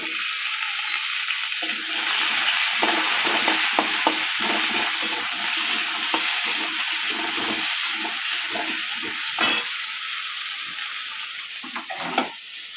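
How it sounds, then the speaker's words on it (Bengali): Ghee sizzling in a pan with dried red chilies, bay leaf and cumin seeds, a steady close frying hiss with small crackling pops and occasional stirring scrapes throughout, no talking. "ঘি দিয়েছি, শুকনো লঙ্কা, তেজপাতা আর একটু জিরে দিয়ে দিলাম"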